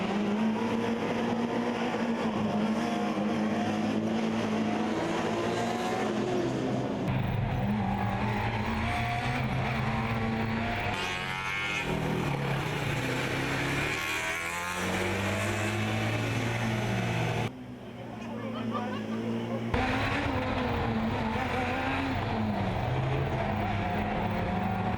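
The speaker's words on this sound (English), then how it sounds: "the Constance cars were really flying to these horseshoe turns over here" Formula Student race cars at the 2016 Formula Student Germany endurance event lap a track with horseshoe turns, engines droning loudly and continuously, revs rising and falling as cars pass, with brief drops between passes.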